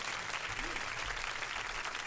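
Hand claps played as a sound effect on a radio show: a dense, steady wash of many hands clapping that holds at an even level throughout, with faint low murmuring beneath.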